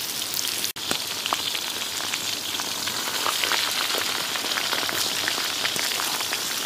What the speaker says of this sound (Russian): грибочки прям там в масле потонули и жарятся.